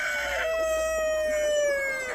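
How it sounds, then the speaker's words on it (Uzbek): A rooster in a grassy patch among free-ranging chickens lets out one long, loud crow close by, with faint clucking beneath it. "maysalarda tabiiy terib yeganda yashashyapti tovuqlarimiz."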